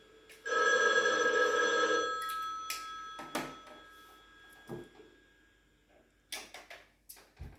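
Telephone bell ringing in one sustained ring of about a second and a half, close and clear, followed by handling knocks and clicks as the receiver is picked up.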